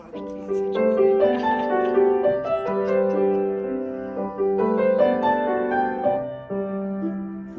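A melodic phrase of distinct notes built from the digits of pi plays in steady succession, stepping up and down in a simple tune with sustained, harmonically rich tones.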